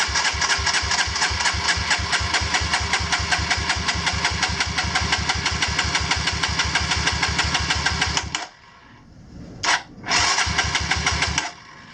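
A Kawasaki KLX170 motorcycle engine, freshly rebuilt with a big-bore top end, cranks on its electric starter with the throttle held open, a fast steady chugging for about eight seconds, then stopping, followed by a brief burst and another short crank.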